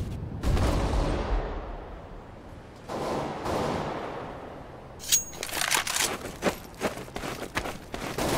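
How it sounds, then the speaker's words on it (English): A flashbang grenade goes off in Counter-Strike: Global Offensive with a sharp burst and decaying ring, followed by a second blast and a run of crackling gunfire. "Deploying flashbang."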